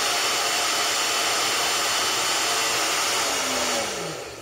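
A standard ladies' hair dryer runs steadily on high, heating a plastic fuel tester, a loud continuous whooshing hum that winds down at the end.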